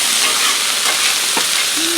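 Shredded cabbage fries with bacon and sauces on a Blackstone griddle, giving a loud steady sizzle close up while a utensil stirs and scrapes it, with no talk.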